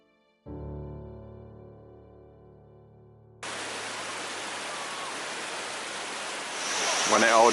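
After a low tonal hum, a loud, steady rush of falling water at Kwangassi Waterfall takes over, roaring continuously close by.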